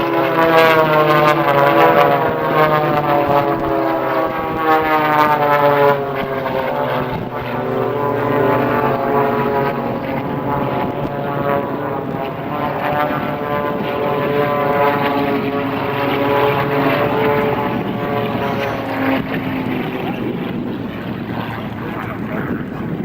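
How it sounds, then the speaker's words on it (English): A German-built Extra 300 aerobatic propeller plane performs at the 2003 Andrews AFB air show with a loud, steady, buzzing engine drone that rises and falls slightly throughout, mixed with wind rumble on the microphone. "the German-built Extra 300 is the world's most exciting and dynamic aerobatic aircraft"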